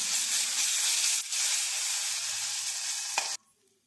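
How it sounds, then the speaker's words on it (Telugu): Masala of coconut, ginger and garlic frying in a pan for fish curry, a loud steady sizzle with a brief stir partway through, cutting off sharply near the end. "బాగా వేగనిద్దామండి ఇది కూడా మసాలా వేగనిద్దాం"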